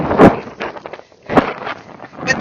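Two heavy gusts of wind buffet the microphone, each a muffled rumbling thump, with softer rustling between them.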